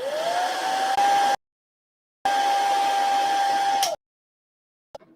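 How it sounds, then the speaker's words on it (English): A hairdryer drying paint blows with a steady whirring roar in two long runs, clicking off into silence between them, close and loud. "I use a hairdryer to dry my paints quicker. So apologise for the sound"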